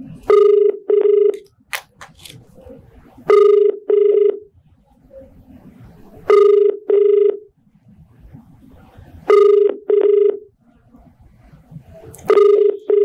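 Phone call ringing out unanswered, a loud repeating double-burst ring tone recurring about every three seconds, with low background chatter in the gaps.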